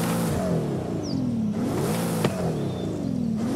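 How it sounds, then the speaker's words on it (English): Mercedes-AMG SL65 Black Series V12 in Forza Horizon 5 revving loudly and alone, its pitch climbing and falling through repeated rising sweeps as the engine surges. "let's hear what the Black Series sounds like. Here's the AMG V12."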